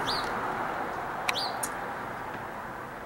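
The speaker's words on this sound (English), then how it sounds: "I can even hear a little bird chirping out here." A small bird outdoors on a cold winter day gives a few brief, high chirps, two short calls well apart, over a steady outdoor background hiss with no talking.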